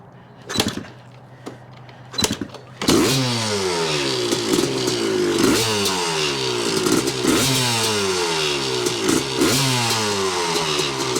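A 1986 Yamaha YZ250 two-stroke dirt bike with a carb coughs through a few brief attempts, then catches and runs loud and close, its crackling exhaust rising and falling in repeated quick revs with no talk over it.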